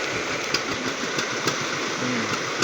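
A fishing boat's engine runs at a steady idle, with a continuous chugging rumble and a faint rhythmic knock. It sounds close and carries on without a break through the short stretch.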